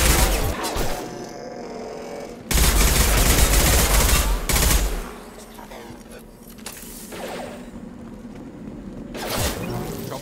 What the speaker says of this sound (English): Sounds like Fenris mechs.